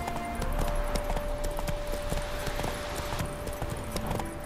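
Horse hooves clip-clop in a steady rhythm within The Witcher 3, close and fairly loud over a constant background hum, with no voices.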